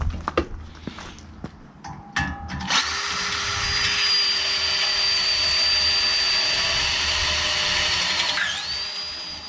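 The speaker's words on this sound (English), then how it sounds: "so I'm just going to have to drill them holes out" A few sharp knocks, then a power drill whines steadily for several seconds drilling holes in a Range Rover P38 seat base, its pitch dipping briefly under load near the end.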